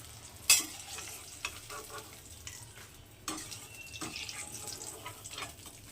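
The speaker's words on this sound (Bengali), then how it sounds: "বেগুনগুলো এদিকে ভাজা হয়ে গেছে আমার মশলা রেডি করতে করতে" Eggplant pieces fry in hot oil in a pan for a Bengali shukto, giving a steady soft sizzle with scattered stirring clatters and one sharp clink near the start, and no talking.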